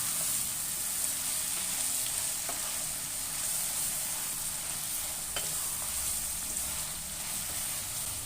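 Masala dosa potato filling cooks over a medium flame, a steady moderate sizzle and bubbling hiss with occasional faint spoon taps and scrapes.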